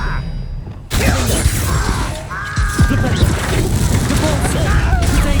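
The Expelliarmus disarming spell is cast in the Hogwarts Legacy video game during a duel, a sudden loud burst followed by crackling, whooshing magical effects and clanks over a busy, continuous game soundscape.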